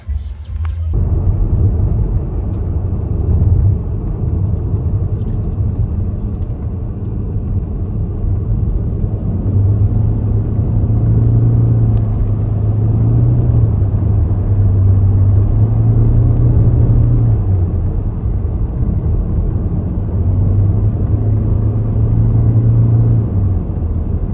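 Car driving on roads near Phanom Rung in Buriram, Thailand, a continuous close low engine rumble with steady road noise and gentle swells in pitch, no voices.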